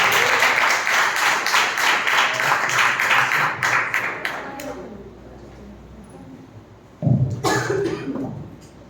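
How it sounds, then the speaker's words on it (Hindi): Church congregation at a Sunday worship service applauding to welcome a speaker, a steady burst of clapping that fades out midway, followed by quiet and a brief cough-like sound near the end. "आइए हम ताली बजा के उनका स्वागत करें."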